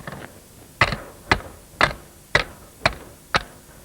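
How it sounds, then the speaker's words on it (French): A hammer taps a pulley along a metal stake of a Kiwitech Spider Duplex 2-wire fence: six sharp, evenly spaced metallic knocks about half a second apart, close and clear, with no talking. "avec un marteau, vous pouvez aussi déplacer la poulie sur le piquet"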